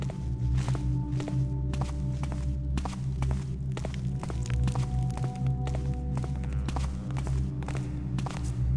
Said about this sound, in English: Hear that? Normal footsteps?